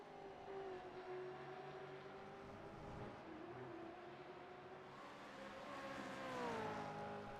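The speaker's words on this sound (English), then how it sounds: "These cars sound so good," Race car engines in an iRacing online race at Oulton Park, including a Chevrolet, droning and shifting in pitch as cars pass, steady and moderately loud with no talk over them.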